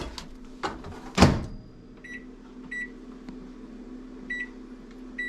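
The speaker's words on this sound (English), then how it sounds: "we're gonna put our ground beef in the microwave because it's frozen" A microwave oven runs to thaw frozen ground beef, its steady low hum under a loud door thump near the start, followed by several short, faint electronic beeps spaced through the rest.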